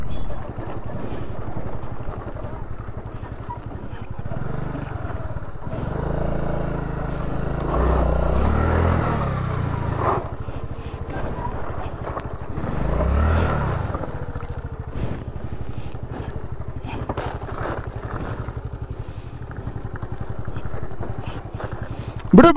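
A motorcycle engine labors up a steep off-road dirt slope, a low droning roar that swells and strains twice, heard close under heavy wind noise.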